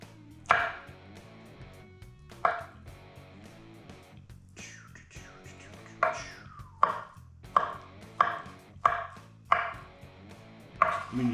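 A knife chops through food on a cutting board while potatoes are sliced for potato salad, with a series of sharp, close cuts, sparse at first and then quickening into a steady rhythm.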